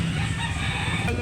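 A Boston breed rooster with yellow feet crowing loudly and close, a sustained full-throated call filling the whole moment over a dense farmyard background.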